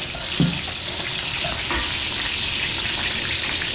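Garlic and onion sautéing in hot oil for pancit in a busy restaurant kitchen, a steady, loud, close sizzle running throughout with a few faint clinks.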